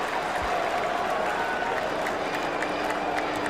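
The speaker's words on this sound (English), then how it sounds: "Crowd loving it." A cricket crowd cheers and applauds as Tendulkar takes on McGrath, a broad continuous roar of clapping and voices from a large stadium audience, steady and full throughout with no clear commentary over it.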